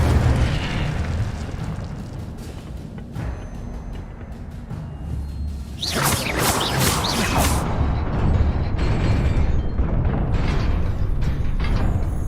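Incendio fire spell cast in Hogwarts Legacy, a sudden roaring burst of flame and crackling blast erupting over a low rumbling game ambience, loud and close, then sustained fiery noise.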